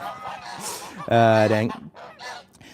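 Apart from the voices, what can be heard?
geese honking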